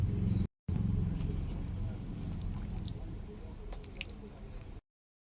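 People chew sukhdi sweet with soft, moist squishing and biting sounds, continuous and close, over a steady low rumble of background noise.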